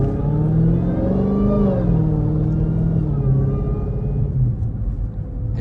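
A supercharged Dodge Hellcat driven in normal mode through afternoon traffic gives off a close, loud, deep exhaust rumble, while the supercharger's high whine rises and falls in pitch as the car accelerates and eases off.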